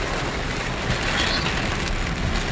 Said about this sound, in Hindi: तो यहाँ हो रही है बारिश कंटिन्यू नॉन स्टॉप।